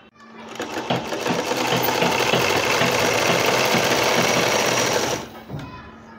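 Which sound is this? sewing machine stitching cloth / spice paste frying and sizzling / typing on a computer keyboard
sewing machine stitching cloth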